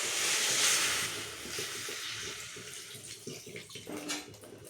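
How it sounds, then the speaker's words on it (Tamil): Water is poured into a hot pan of ivy gourd stir-fry, giving a loud hissing sizzle up close that gradually settles into a softer bubbling simmer. "இப்போ கொஞ்சமாக தண்ணி சேர்த்து"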